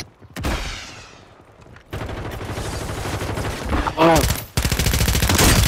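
Bursts of rapid gunfire from a Call of Duty battle royale match, loud and close, with a quiet gap before the shooting resumes and keeps going, a brief voice exclaiming partway through.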